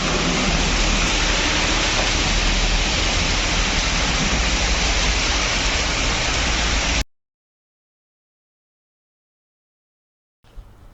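Rain falls steadily in Hyderabad, Telangana, a dense, loud, even hiss that stays constant for about seven seconds and then cuts out abruptly to silence.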